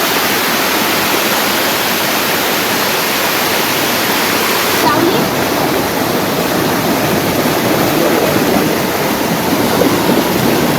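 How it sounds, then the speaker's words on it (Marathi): Fast-flowing water rushing at night during crab catching, a dense, loud, unbroken roar like a torrent that continues for the whole stretch without letting up. "पाणी बघा कसलं वाहत आहे आणि पाणी जबरदस्त आहे"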